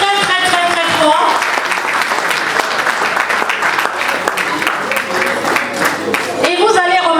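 A crowd at a Paris installation ceremony for a new association board bursts into loud, sustained applause for women standing up, dense clapping filling several seconds between stretches of amplified talk at the start and end.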